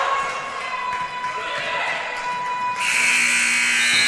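A buzzer sounds in a women's college basketball arena to end the third quarter, a loud sustained tone rising over crowd noise and a commentator's voice.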